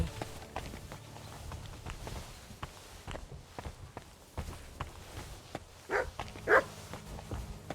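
A dog in the video game Kingdom Come Deliverance 2 gives a couple of short barks amid footsteps and soft movement sounds, the barks brief and moderately close.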